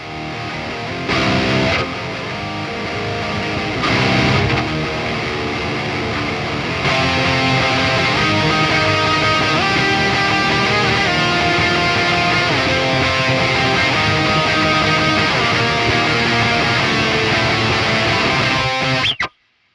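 Loud, distorted electric guitar plays continuously over a repeating backing looped on a Joyo Aquarius delay pedal, dense and sustained until it cuts off abruptly at the end.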